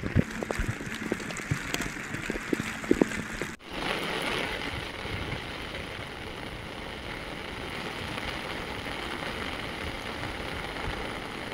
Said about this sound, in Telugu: మోంతా తుఫాన్ ప్రభావంతో మహబూబాబాద్ జిల్లాలో భారీ వర్షం పడుతోంది.